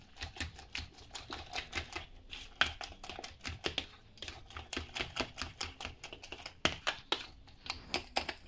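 Fork or whisk rapidly clattering against a bowl while mixing beaten eggs with grated cheese for an omelette, a fast, steady stream of sharp clicks and taps close by.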